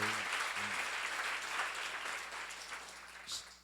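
Audience applause fills a church seminar hall, a dense steady wash of clapping that carries through and tapers slightly toward the end, with no speech over it.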